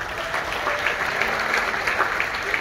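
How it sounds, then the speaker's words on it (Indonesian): A church congregation at a Christmas service breaks into dense, sustained applause, a loud, close wash of many hands clapping together without a break. "Tepuk tangan dulu dong buat dia."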